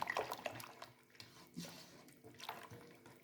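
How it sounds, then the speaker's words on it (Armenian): Water pouring into a cooking pot, a soft splashing, gurgling flow that trickles and surges unevenly for a few seconds, fairly faint and close. "այս կաթսան էլ ջուր կլցնեմ"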